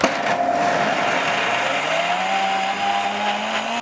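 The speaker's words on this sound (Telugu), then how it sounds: "ఇప్పుడు మిక్సీలో అయితే ఆడుకోవాలన్నమాట" A mixer grinder whirs loudly and steadily, grinding dry black-eyed peas with salt and no water, with a constant motor drone and gritty rattle throughout.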